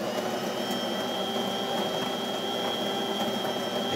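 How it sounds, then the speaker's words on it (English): A De'Longhi PrimaDonna Exclusive espresso machine runs through a test shot, giving a steady mechanical hum and pump whir with a constant high whine, moderately loud and continuous with no talk. "now we're going to do a test shot"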